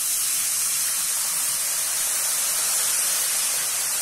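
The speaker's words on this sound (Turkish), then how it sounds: "Yavaş yavaş ve dikkatlice şerbetini verin." Syrup poured into hot, flour-based semolina halva in a pan produces a loud, steady, close steaming hiss that stays even and continuous throughout, with no voices.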